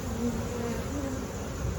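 Honeybees buzz steadily in an open hive during a heavy sugar-water feeding check, a close, continuous droning hum that holds level throughout with no talking.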